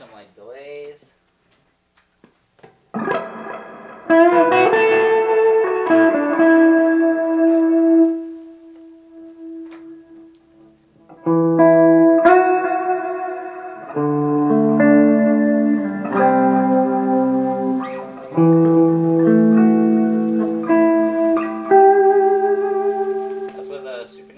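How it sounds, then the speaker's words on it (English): An electric guitar played through a Supernatural reverb pedal and a Hardwire delay pedal into an Orange Micro Terror head rings out in loud sustained chords and melodic lines, with long echoing tails washing between phrases. "That's with a supernatural on reverb and then hardwire delay."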